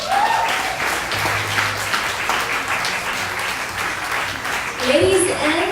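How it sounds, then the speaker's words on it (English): An audience applauds Lea Salonga at a press conference at Resorts World Manila, a sustained round of clapping that swells near the end, with a voice speaking over it. "How about another round of applause for Miss Leia?"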